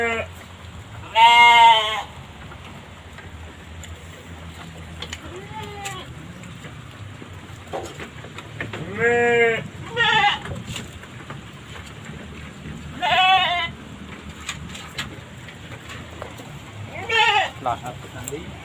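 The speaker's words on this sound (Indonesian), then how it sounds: "Kambing" Goats on a farm bleat in several separate, harmonic calls spread through the stretch, some fairly close and loud, others softer, with quiet background noise between them.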